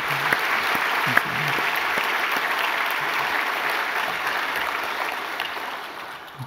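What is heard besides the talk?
church congregation applauding the choir and orchestra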